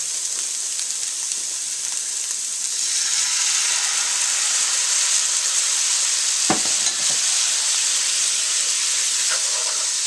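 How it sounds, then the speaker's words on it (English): White wine poured into a hot pan to deglaze a papas rellenas filling, giving a loud, steady, close sizzle and hiss that swells after a few seconds and carries on without pause, with a brief scrape of a utensil partway through. "next we're going to deglaze the pan with some white wine, about 1/4 cup"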